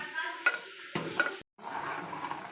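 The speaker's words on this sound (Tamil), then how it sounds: "நல்லா உருகிடுச்சு இன்னும் கொஞ்சம் நேரம் நல்லா கொதிக்கட்டும்" Butter simmers gently in a pan while being made into ghee, giving a soft, steady sizzle with a few sharp clinks of a utensil against the metal, fairly quiet overall.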